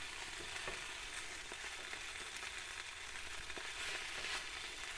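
Steady, continuous sizzling of sausages frying slowly on low heat in a pan, with occasional soft crackles and pops, close by and even in loudness throughout.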